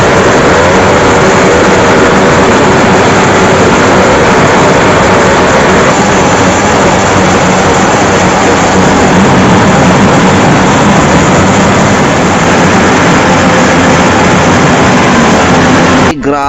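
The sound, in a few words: loud motorcycle engines revving at a motor show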